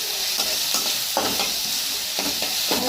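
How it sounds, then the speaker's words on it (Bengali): Chopped green chili fries with onion and ginger paste in a pan, a steady sizzle broken by repeated stirring scrapes at an uneven rhythm, close and clear with no talking. "ভালো করে ভেজে নিতে হবে"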